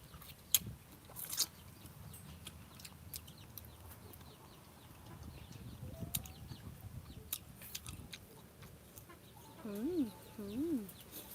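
Chickens cluck softly in short bursts near the end, faint against a quiet outdoor background with scattered clicks and rustles.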